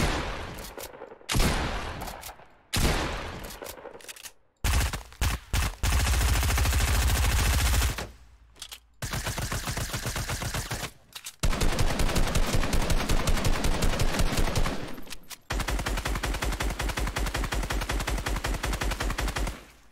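Bursts of automatic gunfire in the video game Fortnite, loud, rapid volleys broken by short pauses, with long sustained strings of shots dominating the stretch.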